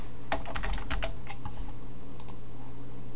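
Keys tapped on a computer keyboard while HTML code is entered, a quick burst of close, crisp clicks in the first half followed by a couple of isolated taps over a steady low hum.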